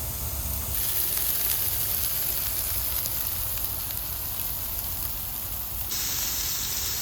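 Smashed patties sizzling in a hot pan outdoors at an RV campsite, a steady close hiss throughout with brief crackly bursts, and no talking.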